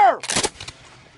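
A platoon fires a musket volley in a reenactment storming Fort Niagara: one loud, sharp, ragged blast right after a shouted order, which decays quickly into a fainter rumbling tail.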